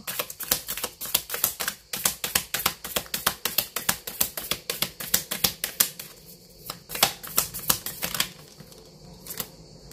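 Oracle cards being shuffled, a long run of rapid, crisp flicking and riffling taps close by, with brief pauses between bursts.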